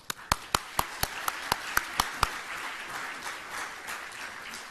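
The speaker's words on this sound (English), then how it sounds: "I'm going to ask you to applaud at the beginning and thank them for coming here." An audience applauds a panel of offshore court judges at the opening of a session: about nine sharp, evenly spaced claps ring out close by, then a softer, steady wash of crowd clapping continues to the end.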